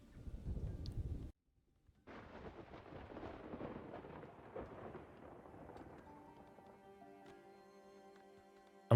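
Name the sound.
thunderstorm with rain in video game Farthest Frontier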